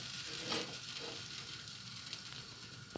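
A potato and cheese gözleme made with ready-made yufka fries in a pan with a faint, steady sizzle. Small pops and crackles rise and fall close by, with no talking.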